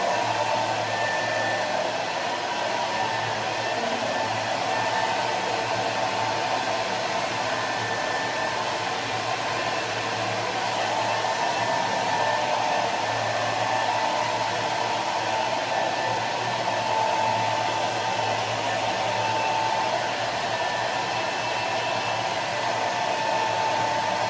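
A hair dryer blows steadily at close range while finishing hair, a constant loud whir that holds its pitch with only slight wavering throughout, with no talking over it.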